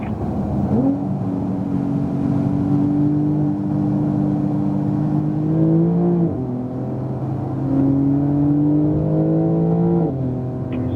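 A Porsche 911 Turbo S, 2018, accelerating on a racetrack, its engine note climbing steadily with gear shifts around six and ten seconds, loud and continuous with no talk.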